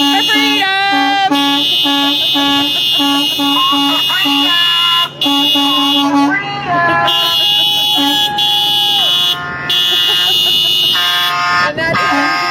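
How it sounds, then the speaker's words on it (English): Car horns honking at a grassroots freedom rally, long overlapping toots and steady blares layered over crowd noise, loud and close, with brief breaks between blasts. "Honk for freedom."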